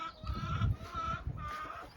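Barn hens cluck and make soft, nasal calls close by, a few overlapping vocal bursts over about two seconds, moderately quiet with no speech.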